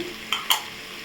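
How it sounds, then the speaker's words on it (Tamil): Onions and tomatoes fry in a pan for a beef pepper gravy as masala powders are stirred in, giving a close, soft sizzle with two short scraping clinks of the spoon. "வெங்காயம் தக்காளி நல்லா வதங்கிருச்சு பாருங்க இப்போ நம்ம ஒவ்வொரு மசாலாவை ஆட் பண்ணிக்கலாம்"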